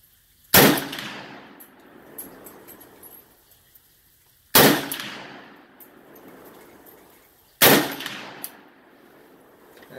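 Three loud 7.62x39 rifle shots with 154-grain soft point rounds ring out at an even pace, about four seconds apart, each sharp crack trailing off in a long echoing decay.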